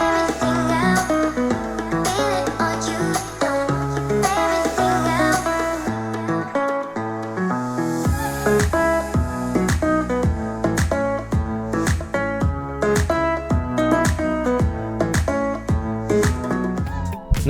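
Music played through an Edifier M60 desktop speaker connected over USB-C, a full arrangement with deep bass, steady percussive beats and layered melodic parts, continuous and fairly loud with no talking.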